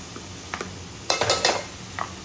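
A spoon scrapes and clinks against a pot while green ginger, garlic, chili and coriander paste is stirred into a crab curry, a few soft irregular knocks over quiet background, no talking.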